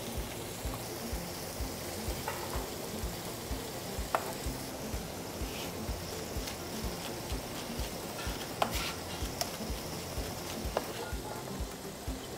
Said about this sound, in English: in this other pan, we start to sear, pan fry the lamb breast